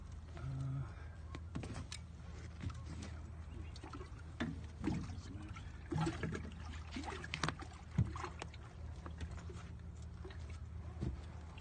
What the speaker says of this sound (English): want me to turn the trolling motor on and move us?